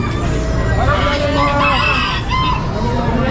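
Brahma chicken at a busy pet market, with rooster crowing and clucking rising over dense market chatter and background noise.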